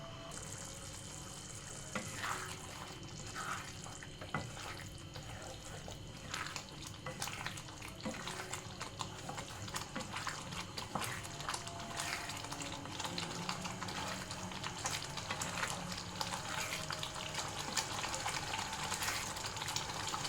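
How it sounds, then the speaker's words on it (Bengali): Palak paneer curry simmers in a pan, giving a steady, bubbling, watery wash of sound with scattered soft pops and clicks throughout, close and continuous with no talking. "এবারে এভাবে 4 থেকে 5 মিনিট একটু ফুটে নিক।"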